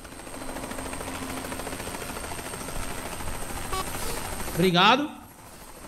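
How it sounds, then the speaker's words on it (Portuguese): Helicopter engine running in Euro Truck Simulator 2, a steady mechanical drone throughout with a brief louder burst near the end; a voice speaks briefly. "Ah, o helicóptero tá ligado, é aquele outro ali, ó."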